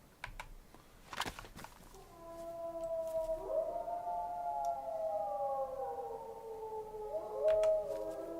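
Wolves howl in the DayZ survival game, several long, wavering tones overlapping and rising and falling together, with sharp keyboard clicks tapping near the start.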